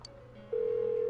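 A phone rings in the Japanese role-playing game Persona 4 Golden, a steady electronic tone that switches on partway through and holds, fairly loud and close, over a low background drone.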